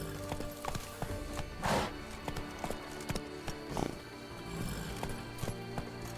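Hooves of the horse Roach clip-clopping in The Witcher 3, a steady rhythmic trot of clear close hoof strikes with a couple of louder thuds and faint background ambience.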